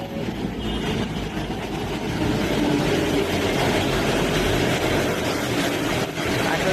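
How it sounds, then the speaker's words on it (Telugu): A Hyderabad metro train arriving at the Road No. 5 station, a loud, steady rumbling roar of the approaching train filling the platform, continuous throughout. "చూడండి రైలు వస్తుంది"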